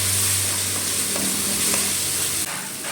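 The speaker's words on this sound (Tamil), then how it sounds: "பொடிசாக நறுக்கி வச்சுருந்த ஒரு பெரிய வெங்காயம், பொன்னிறம் ஆகிற வரையும் சிம்மில் வச்சு வதக்கிக்கலாம்." Chopped onion and tomato sauté in a hot pan for a Tamil-style creamy mushroom gravy, giving a steady, close sizzle broken by a few stirring scrapes, with no talking.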